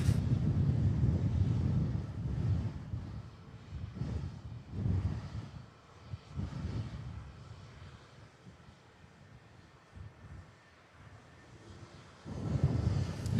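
An Air Transat airliner lands on the runway at Manchester Airport, heard as a distant, fluctuating jet roar mixed with gusty wind noise on the microphone, swelling and fading across the clip.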